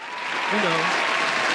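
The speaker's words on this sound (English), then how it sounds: "Let me give a round of applause, man." A canned applause sound effect plays during a podcast, a dense steady wash of clapping and cheering that swells in, with someone briefly speaking over it.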